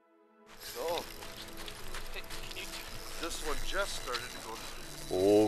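A fishing reel's drag ratchets in quick bursts as a lake trout runs during ice fishing on a Manitoba lake, clicking close by under excited voices.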